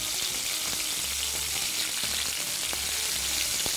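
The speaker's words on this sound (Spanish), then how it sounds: "Lo voy a tener así sujeto para que se haga un poquito, que se cocine la parte de abajo del pescado." A piece of hake fries in a pan of hot oil, giving a constant close sizzle with scattered crackles and small pops and no talking over it.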